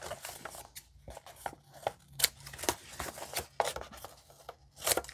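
Scissors or blade snipping through a page of a composition notebook, a rapid run of dry cutting and rustling strokes close by, with no voices.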